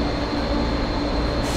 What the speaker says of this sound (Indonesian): tuh keretanya udah berangkat lagi itu yang satu